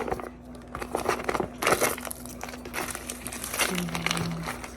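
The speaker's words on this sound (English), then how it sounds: "I'm gonna open up the tilapia packs. These scissors aren't the greatest." Plastic tilapia packs being opened with dull kitchen scissors: repeated crinkling and crackling of thin wrap, fairly close, with a steady low hum behind it and a few short louder rustles.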